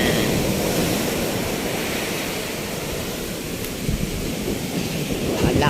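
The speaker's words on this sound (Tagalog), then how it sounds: "Diba, grabe ang alon niya." Ocean waves break on the shore at Mauban, Quezon, a dense continuous roar of surf that swells slightly toward the end, heard fairly close with no talk.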